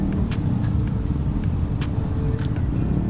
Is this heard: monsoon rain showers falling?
no